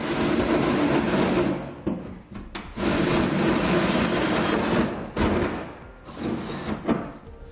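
A 3.5-inch hole saw cutting through a Ram pickup's truck bed to mount a gooseneck hitch: loud, close, grinding and rasping bursts of cutting, broken by short pauses where the saw stops and restarts.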